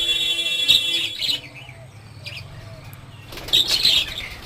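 A pair of Java sparrows kept as calm pets, with sharp chirps and bursts of wing flapping close by, busier at the start and again near the end, quieter in between.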